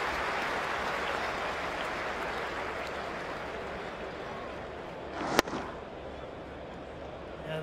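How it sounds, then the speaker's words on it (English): Cricket crowd at an Ashes Test match applauding, a broad wash of clapping throughout, steady and distant, with one sharp crack midway. "Come on, Dave, that's worth a clap"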